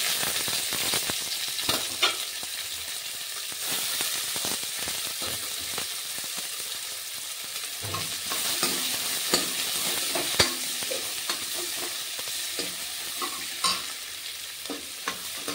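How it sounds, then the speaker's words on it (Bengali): Chopped onions fry in oil with cardamom and cloves, a continuous sizzling hiss with frequent spatula scrapes and knocks against the pan, close and steady, with no talking heard. "এবার পেঁয়াজটা আমি লাল লাল করে ভেজে নেব।"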